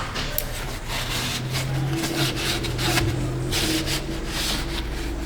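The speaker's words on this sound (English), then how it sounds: "I'm just going to go through and wipe it off here." A rag wipes brake cleaner off a rusted Subaru subframe, making a continuous close rubbing and scuffing sound with small uneven strokes.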